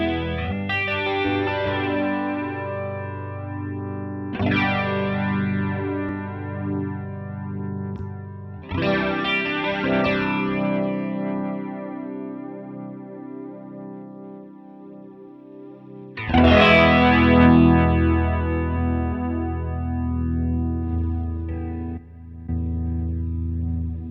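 Electric guitar played through a Strymon Deco tape saturation and doubletracker pedal, with distortion feeding into it: four loud, sustained chords, each ringing out with a thick, wide, doubled shimmer and no voices.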